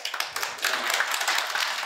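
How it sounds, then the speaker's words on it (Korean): Applause at an industry meeting on fire-safety promotion: a modest group claps in quick irregular patters, fairly near and moderate in volume, with no talk over it. "우리 전해총괄과장께도 격려의 박수 부탁드리겠습니다."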